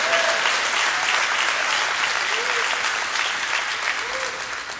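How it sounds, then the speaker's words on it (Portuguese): A church congregation claps in a sustained, full round of applause that fades slightly over nearly five seconds. A few faint cheers or shouts rise above the clapping. "dá uma salva de palmas ao Senhor"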